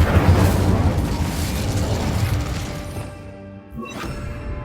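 Incendio fire spell cast in Hogwarts Legacy on PS5, a loud roaring burst of flame with a rumbling blast that fades into quieter crackling and a faint tonal shimmer.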